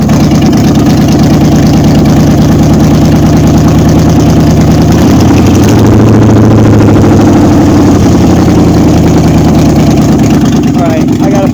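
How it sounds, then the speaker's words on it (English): A 350 Chevy V8 swapped into a 1953 Ford Customline running at a fast idle on the choke, loud and close, a steady rumbling drone throughout with a slight shift midway. "that's a fast idle because of the choke"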